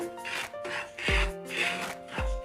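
Semolina (rava) being stirred while dry roasting in a pan, repeated scraping and rubbing strokes in a regular rhythm, close and moderately loud.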